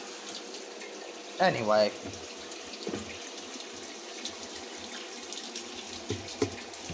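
Hot water pouring into the tub of a GE Filter Flo washing machine, a soft steady rush of filling water in the background while a person speaks briefly over it amid a few clunks.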